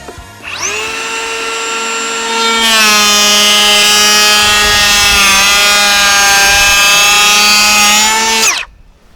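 A Ridgid Octane 18V cordless planer (R8481B) runs with no dust bag fitted, spinning up to a loud, steady high-pitched whine. Its tone thickens as it cuts down into the wood for about six seconds, then it stops abruptly.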